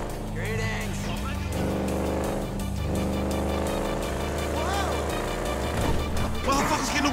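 Big 140-cubic-inch motorcycle racing in Grand Theft Auto V, a loud sustained engine roar with rising and falling revs, under music and voices talking over it.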